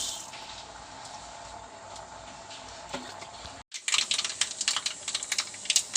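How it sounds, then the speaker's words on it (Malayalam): Mustard seeds crackle and pop in hot oil in a pan, a dense, steady patter of tiny bursts that stops for a moment, then returns sharper and louder with scattered snaps. "കടുക് ഇടുന്നു"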